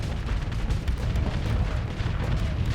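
Cannon shells firing in a Starsector space battle, a dense, continuous run of rapid low booms and thuds without pause.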